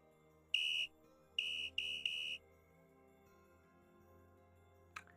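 A shrill whistle in VRChat sounds four times, one short blast then three in quick succession, loud and piercing against a quiet hum.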